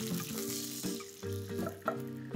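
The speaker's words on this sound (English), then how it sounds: "Add in water immediately to ensure that the tempering now is in complete control." Water poured into a hot curry-leaf tempering for kadhi, a steady close hiss and bubbling sizzle with brief splashy bursts, no talking.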